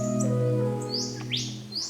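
Australian king parrot calling, with several short high whistling chirps and upward-sweeping notes over a steady low hum, clear and fairly close.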